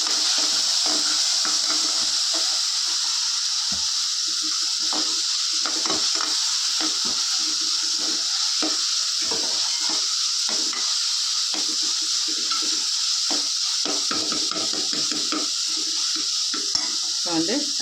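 Ginger garlic paste fries and is stirred in a pan for a kanji, a steady sizzling hiss under scrapes of a spoon, with talk present throughout.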